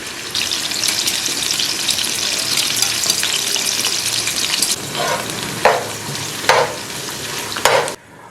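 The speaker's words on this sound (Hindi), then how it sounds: "प्याज को लाइट ब्राउन करेंगे हम। लहसुन के ऐड कर देंगे इसमें।" Onions and garlic fry in a pan for chicken biryani, giving a steady, loud sizzling hiss that fades partway through, with a few sharp stirring scrapes near the end and no talking.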